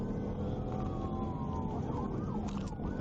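A police car siren wails during a pursuit, its rising and falling tone sweeping steadily over road and engine noise, fairly close and continuous for the whole moment.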